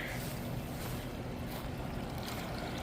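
A steady, broad rush of running water, like a hose left on, continuing unbroken at an even level throughout.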